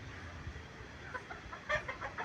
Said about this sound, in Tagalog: Nangahabol ka na naman ng manok.